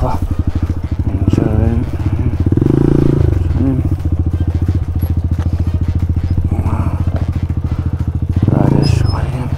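A Falat 200 CRF-style motorcycle engine runs in neutral on a ride, idling with a rapid steady putter and blipped up in two short throttle bursts, loud and close.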